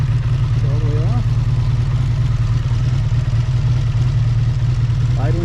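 A Honda VF750 motorcycle engine idles steadily with its choke fully off, a constant low loud hum with light mechanical clatter throughout, while a voice speaks briefly near the start and end.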